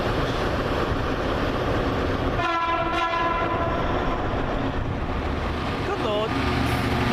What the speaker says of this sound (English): coming in with the service to Great Malvern from Southampton Central.